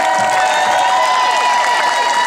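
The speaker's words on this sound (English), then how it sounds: "let's have a round of applause for the firefighters" Crowd applause for firefighters at an outdoor monument ceremony: steady, dense clapping with some cheering, loud and continuous throughout with no breaks.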